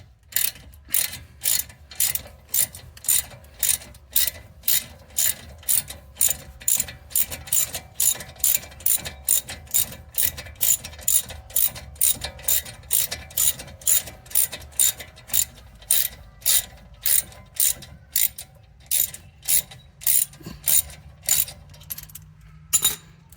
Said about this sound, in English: You can use that ratchet to open these up.